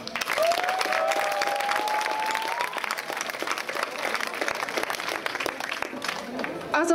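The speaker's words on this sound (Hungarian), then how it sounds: "Külön taps jár Gyöngyösi Istvánnak, Kerekes Péternek" An audience at a school dance-song festival applauds warmly and steadily, a dense crowd of clapping hands that continues for several seconds, with a faint voice over it.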